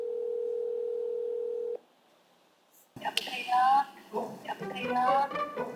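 A steady telephone dial tone hums for almost two seconds and then cuts off. After a short silence, lively voices chatter over the line as a call connects.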